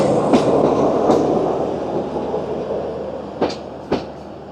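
Shah Latif Express passenger train rolling through the Thar Desert, a steady loud rumble of coaches with a few sharp clacks of wheels over rail joints near the start and end.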